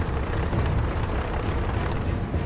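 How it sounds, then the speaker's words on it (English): Battlefield explosions among colliding tanks on an archival war front merge into a loud, continuous deep rumbling roar, heavy and booming with no distinct gaps and no voices. "The earth is shaken with explosions."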